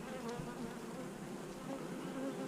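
Honey bees buzz in a dense, steady drone around an open beehive during routine hive work, the hum loud and continuous with no voices over it.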